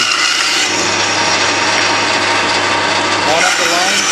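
Bandsaw ripping through wooden pen blanks guided by a jig, a steady loud rasping cut with a constant motor hum beneath, running unbroken for the whole stretch.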